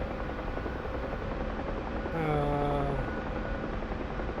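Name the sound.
UH-1H helicopter in flight, from a video game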